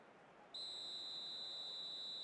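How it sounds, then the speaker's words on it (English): Referee's whistle blows for half-time in the football video game eFootball 2026, one sustained shrill blast sounding alone after a quiet start and holding steady to the end. "the whistle goes for half-time"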